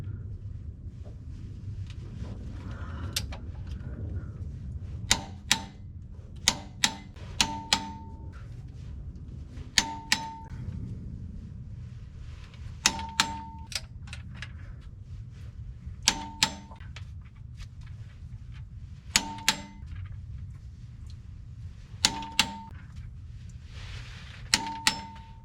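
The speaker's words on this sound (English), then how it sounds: "that is all of them torqued down to 101 foot-pounds" A torque wrench tightens flywheel bolts to 101 foot-pounds on a Cummins with an NV5600 transmission. Sharp metallic clicks come in repeated pairs and small bursts at irregular intervals, heard close over a low background hum.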